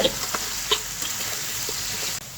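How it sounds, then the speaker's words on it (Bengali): Cut potatoes fry in hot oil with salt and turmeric, a brief close sizzle with a few soft stirring clicks and scrapes in the pan. "লবণ এবং হলুদ দিয়ে নেড়ে চেড়ে আলুটাকে কিছুক্ষণ ভেজে নেব"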